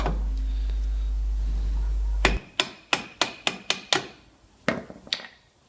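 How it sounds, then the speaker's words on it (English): A hammer strikes a Nissan Micra CV joint to free it from the hub, about eight sharp metallic blows in an uneven series, close and loud, following a steady low hum that stops before the blows. "before I tap the CV joint from the hub, I'm putting the nut on the end so I don't damage the threads"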